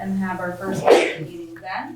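A single sharp sneeze bursts out in a small-town selectboard meeting, loud and close, landing right in the middle of a man's speech.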